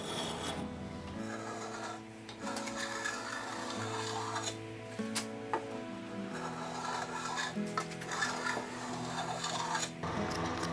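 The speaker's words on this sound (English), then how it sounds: "I took a spoke shave and whittled the ends of the dowels a little bit." Spokeshave whittling the ends of wooden dowels for breadboard ends, repeated rasping hand-tool strokes close up, rhythmic scraping passes with brief pauses between them.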